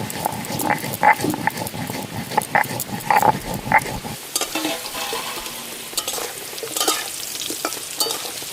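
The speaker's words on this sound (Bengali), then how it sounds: "এই যে আলুগুলো লাল লাল করে ভেজে নিয়েছি, এবার তুলে নেবো।" Potatoes frying in oil until reddish-brown for a spicy desi chicken curry, a steady broadband sizzle with repeated clinks and scrapes of a spatula in the first half, then a softer continuous crackle.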